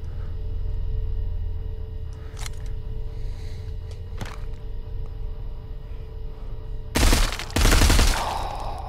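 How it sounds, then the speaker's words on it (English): A machine pistol fires in bursts in the VR game Arizona Sunshine. Two sharp single cracks ring out over a steady low background hum, followed by two loud rapid bursts near the end. "It is a machine pistol."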